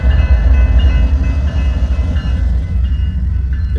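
A freight train led by ES44C4 locomotive 6800 in a triple-header rumbles past close by, its loud low diesel drone and rolling wheel noise pulsing steadily throughout.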